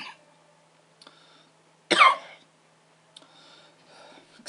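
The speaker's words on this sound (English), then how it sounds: "I started coughing on some water." A single loud, harsh cough burst from a person who choked on water, standing out sharply against a quiet background, followed by faint breathing and small rustles.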